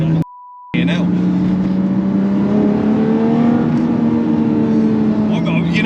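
A Toyota MR2 with a swapped-in 3.5 V6 accelerates hard on open road, heard from inside the cabin as a loud, steadily rising engine roar that climbs in pitch through the revs, with a brief dropout near the start.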